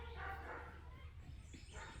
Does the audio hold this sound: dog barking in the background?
yes